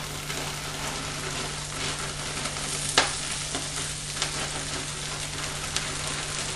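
Vegetables stir-fry in extra virgin olive oil with a dense, steady sizzle that fills the whole stretch, broken by a few sharp clinks of a utensil against the pan and a low constant hum underneath.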